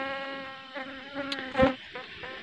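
Honey bees buzz close by around a hive box with a steady droning hum that wavers in pitch, with a couple of louder passes.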